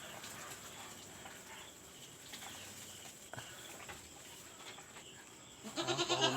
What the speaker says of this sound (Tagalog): Uhaw na uhaw ang ating kambing.